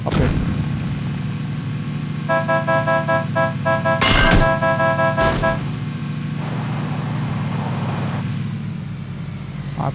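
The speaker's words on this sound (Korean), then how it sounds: "빵빵거려 줬잖아. 조심하라고." Car horn honking in the battle royale game PUBG, a series of sharp repeated toots over a steady idling engine, with loud impact bursts in between.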